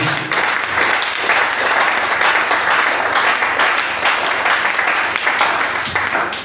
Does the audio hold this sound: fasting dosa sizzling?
no